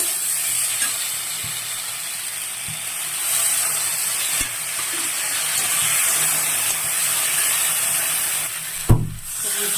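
Ash gourd pieces frying and being stirred in spiced oil in a home kitchen, a continuous close hiss and sizzle with soft scraping stirs, and a brief louder clatter near the end.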